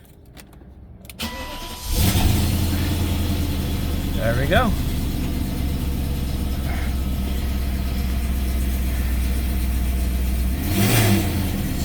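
A 1998 BMW 735i cranks briefly and fires on a cold start, then settles into a loud, steady idle in an enclosed space, with a short spoken remark heard over the engine.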